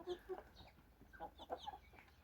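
Chickens and roosters of a large breed cluck softly in short scattered calls, faint and close together, over a low background hum.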